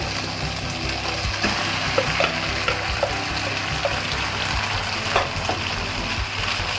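Chicken browning with vinegar in a pan as dry macaroni is tipped in over low heat: a steady, close sizzle with scattered small clicks and rattles. No voices.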